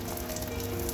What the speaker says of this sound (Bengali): চলো ডিমটা ভেজে নিই ঝটপট করে